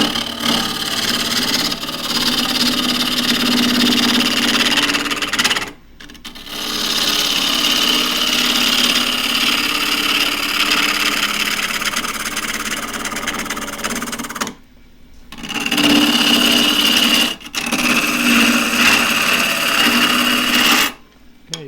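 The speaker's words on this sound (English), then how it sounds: "First thing is to get rid of the splits, and I'm using a 1/2 inch spindle gouge as usual," A 1/2-inch spindle gouge with an asymmetric grind cuts a green pistachio bowl spinning on a wood lathe, a loud, continuous scraping whir broken by a few brief pauses between cuts.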